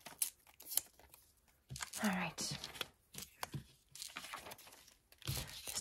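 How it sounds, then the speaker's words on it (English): Magazine paper being torn into scraps by hand for a vision board craft, with a few short ripping bursts and crinkles close up, and a quiet voice speaking briefly between them. "I do love tearing into that paper."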